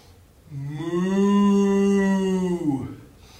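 A voice imitates a cow with a long, steady, low moo that holds for about two seconds and then drops away, loud against a quiet background.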